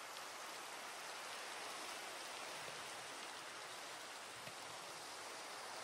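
Steady rain falls in the video game Minecraft, a soft, even hiss of drops with no variation, faint and continuous with no other sounds.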